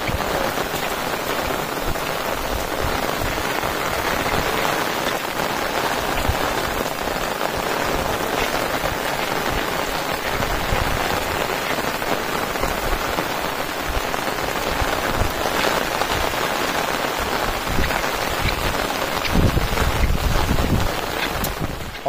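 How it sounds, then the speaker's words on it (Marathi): Heavy monsoon rain pours steadily outdoors on a plateau in rural Konkan, a dense, constant hiss with wind buffeting the microphone throughout and no speech. "पाऊस थोडासा कमी झाला आहे."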